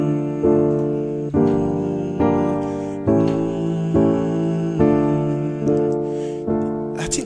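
Piano plays a slow chord progression in a relative minor key, roughly eight sustained chords struck at a steady pace, clear and alone.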